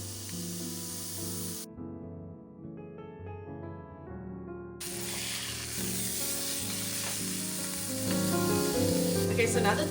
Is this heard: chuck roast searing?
yes